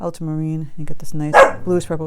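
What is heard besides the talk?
dog barking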